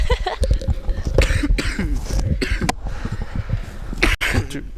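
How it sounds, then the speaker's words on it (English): A coughing fit on a call, with repeated harsh coughs and throat-clearing bursts in quick irregular succession, close and loud. "A coughing fit?"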